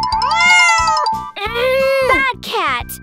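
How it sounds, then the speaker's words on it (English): A cat meows loudly and close by, three drawn-out wavering calls in quick succession, each rising and then falling in pitch. "Bad cat!"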